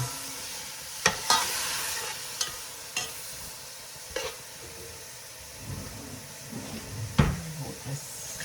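About 1.5 pounds of minced beef is stirred in a hot pan for spicy keema aloo, with a soft sizzle beneath several sharp spatula scrapes and knocks against the pan.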